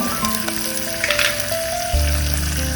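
Bay leaf and ginger frying in a hot pan for Goan prawn pulao, giving a steady close sizzle that jumps to a louder, fuller hiss near the end with no talking.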